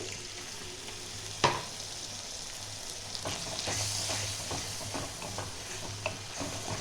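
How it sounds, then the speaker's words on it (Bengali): Water from washed poppy seeds hits frying spices in a pan for Bengali dohi potol, giving a steady sizzle with stirring scrapes and a sharp clink near the start. "একটু পোস্ত ধোয়া জলটা দিচ্ছি।"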